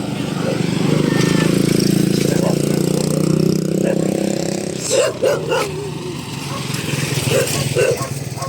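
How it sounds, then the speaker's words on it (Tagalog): Several dogs bark at the seaside in the middle of a loud, rumbling outdoor din, with an engine-like drone underneath. "Maraming aso dito."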